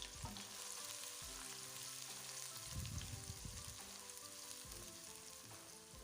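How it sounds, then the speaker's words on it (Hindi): Onions frying with cumin seeds in a pan, a soft continuous sizzle with occasional brief bursts of crackle, faint and steady with no talking. "तो अब हम प्याज शामिल करेंगे और प्याज को भी गोल्डन ब्राउन होने देंगे।"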